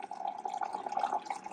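Coffee poured from a height: a thin stream pours and trickles steadily into a cup, a soft bubbling splash, quiet and close.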